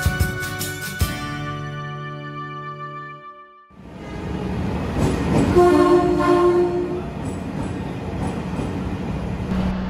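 Gaya Baru Malam Selatan train at Pasar Senen station in Jakarta: a loud, sustained horn blast sounds first, then after a short lull the train rumbles and clatters steadily close by.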